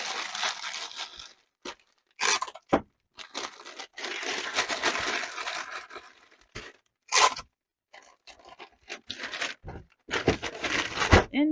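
Packing tape is pulled off the roll and torn in repeated loud, close rasping strips with short crackling tears and brief pauses between pulls, heard alone while orders are packed.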